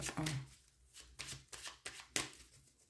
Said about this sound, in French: Je vais tirer quelques cartes